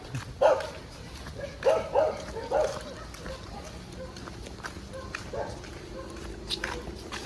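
A few barks from a dog a short distance away in Brazil, loose single and paired yips over a murmur of outdoor background noise.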